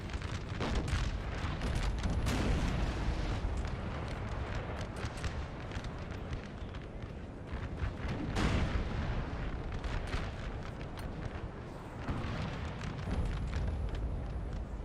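Artillery pieces fire during a Napoleon Total War battle near a town, their shots aimed at Rheinbund troops. Dense, continuous booming rumble with heavier blasts swelling now and then, and no talk over it.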